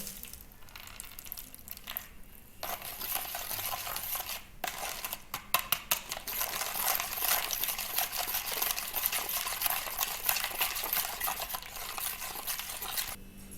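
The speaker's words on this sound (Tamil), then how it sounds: "இப்போ இதில் 50 ml தண்ணி எடுத்து வச்சுருக்கோம் இல்லையா, அதை வந்து இதில் ஊற்றிட்டு அது நல்லா கரைச்சி விட்டுருங்க." Citric acid being stirred into water in a vessel, a steady scraping, swishing stir that runs continuously with small clinks of spoon against the container, close and moderately loud with no talking.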